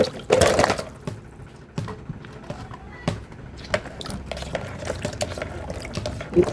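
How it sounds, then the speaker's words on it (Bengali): Guavas are washed with water, splashing and pouring in uneven bursts alongside the knock of fruit and container handling; a voice talks faintly in the background. "পেয়ারাগুলোকে এখন ভালো করে ধুয়ে নিব"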